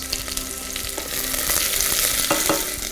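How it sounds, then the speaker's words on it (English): Chopped vegetables for tomato soup roast in a hot pot, a steady loud sizzle and crackle with intermittent stirring scrapes and knocks, close up and without talk. "it's gonna take us, 5-10 minutes to get the vegetables nice and roasted"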